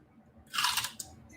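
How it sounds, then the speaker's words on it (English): Loud crunching from someone eating, one sharp, close bite-crunch lasting under half a second and followed by a small click, with quiet room tone around it and no speech. "your crunching is very, very loud"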